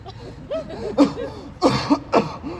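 Several short, harsh coughs come in quick bursts, close by, with a rough throaty quality.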